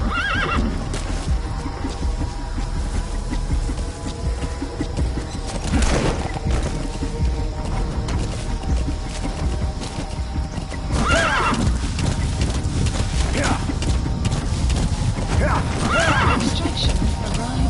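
Horse whinnying and hooves clip-clopping in Metal Gear Solid V, several loud neighs over steady trotting hoofbeats and a constant game ambience, with a voice speaking over it.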